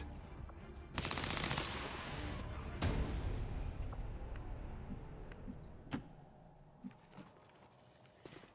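Rapid automatic weapon fire in the strategy game XCOM 2, with a dense burst of shots around a second in, another sharp volley, then scattered lighter hits and clanks fading into quieter game sounds.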